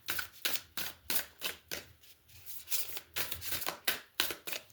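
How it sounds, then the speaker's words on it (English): Tarot cards are shuffled by hand in a quick, regular series of crisp riffling bursts, close and fairly quiet, with short pauses between bursts and no talk over them. "I have to shuffle."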